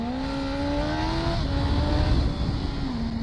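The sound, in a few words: motorcycle accelerating away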